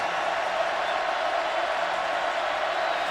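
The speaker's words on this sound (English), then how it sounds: "Crowd back into it here in Texas" A stadium crowd at a Texas college football game against California, a steady broad roar of many voices, distant and even throughout with no distinct peaks.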